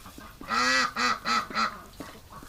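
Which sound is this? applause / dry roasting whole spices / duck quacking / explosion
duck quacking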